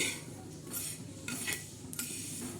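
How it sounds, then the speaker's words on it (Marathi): Sesame seeds dry-roast in a pan while a utensil stirs and scrapes them, giving a soft close rustle broken by several metallic scrapes. "आता ही चटणा ही तीळ बघा कशी भाजते"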